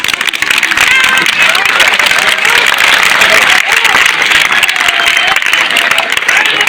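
Close, loud clapping from a crowd at a school award ceremony, with shouts and chatter mixed in as the applause carries on steadily.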